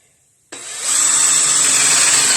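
A handheld electric drill whirs up abruptly from silence and settles into a loud, steady high-pitched whine, close by, with no voices.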